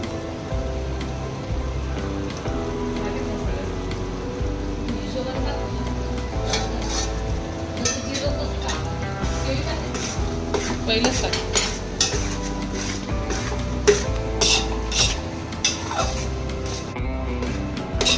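Semolina and mashed banana stirred and roasted together in a pan, a steady scraping churn with light clinks of the spoon against metal, continuous and close with no talking.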